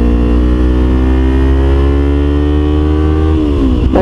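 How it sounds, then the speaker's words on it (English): A 2012 Kawasaki Ninja 250 motorcycle engine revs loudly and steadily, holding a high pitch before an upshift near the end cuts the revs sharply, with no talking. "Now you can tell by the severe drop off of that upshift that it's not a close ratio gearbox."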